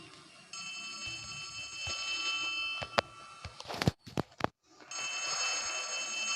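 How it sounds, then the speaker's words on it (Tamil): A telephone rings in the horror video game Poppy Playtime Chapter 3, a steady bright electronic ring broken by a burst of sharp clanks and brief silence before ringing resumes. "காய்ஸ் யாரோ ஃபோன் பண்ணுறாங்க."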